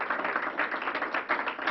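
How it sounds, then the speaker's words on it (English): Audience applause at a COVID briefing, a steady patter of clapping hands from a modest crowd, moderately close and even in density, with no talk over it. "I want to thank you and give you a special round of applause as leader of ECMC"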